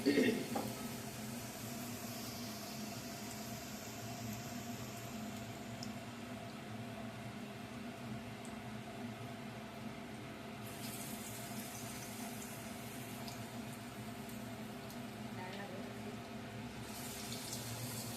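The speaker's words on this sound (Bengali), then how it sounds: "আমি এখন আলুটা ব্যাটারে ভিজিয়ে ভাজার জন্য তেলে ছেড়ে দিলাম।" Batter-coated potato chops, Bengali alur chop, frying in hot oil, a steady, soft, even sizzle and bubbling hiss that holds for the whole stretch.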